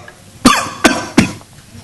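A person imitates coughing with three short, sharp coughs in quick succession, close by, with quiet between them.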